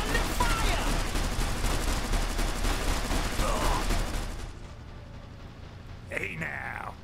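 Rapid bursts of gunfire from the real-time strategy video game Iron Harvest crackle densely and loudly for about four seconds, then drop away to quieter battle noise and a brief voice line.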